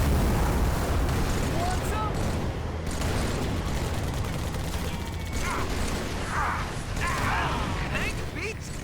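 Scorpion tank cannon fire and explosions in Halo 3 roll as a dense, continuous rumbling barrage with heavy low booms and mechanical clatter, loud throughout, with faint whistling streaks in the latter part.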